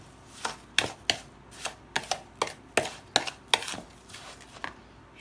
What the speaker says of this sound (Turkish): Şöyle kaşıkla önce bir karıştıralım şöyle.